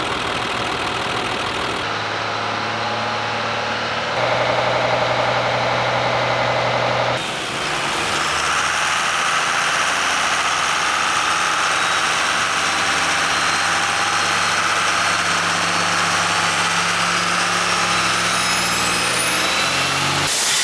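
A First Gen Cummins diesel engine in a truck on a dyno roars steadily for about twenty seconds, loud and close. It shifts pitch near the start, then holds a sustained heavy drone that rises toward the end.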